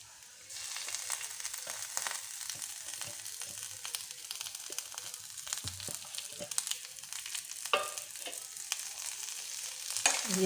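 Bottle gourd peel and potato sizzle in fish oil as a spatula stirs the pan, a steady close frying hiss with scattered scraping clicks and a few louder stirs near the end.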